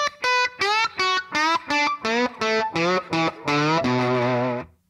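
A distorted electric slide guitar plays a lick with hand muting, cutting it into about ten clean, separated notes that slide in pitch and stop crisply, before a final held note rings out.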